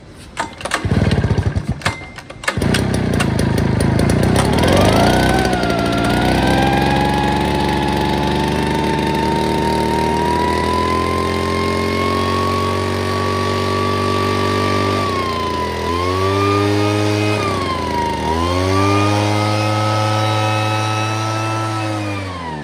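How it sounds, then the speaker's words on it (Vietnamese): A 45cc two-stroke engine on a lime-spreading leaf blower sprayer pulls over with a few rattling tugs, catches, and runs at a loud steady drone, its pitch dipping and rising twice as the throttle is blipped. "Bây giờ em nổ máy lên, nhưng mà em nghĩ con này lớn nha, để em nổ máy lên em nghe tiếng máy"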